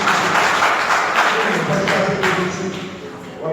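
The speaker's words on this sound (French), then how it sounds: "Applaudissons Dieu pour nous." A church congregation claps together during a worship service, a dense, steady wash of hands that thins slightly toward the end, with voices mixed in.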